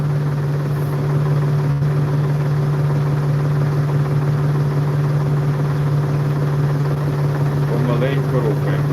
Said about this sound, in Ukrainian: тобто трактор розвертається майже на місці